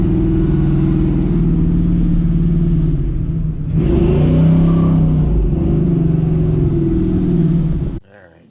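A 1969 Chevy Nova engine rumbles at a steady idle close by, swells into a louder rev midway, then settles back before cutting off abruptly near the end.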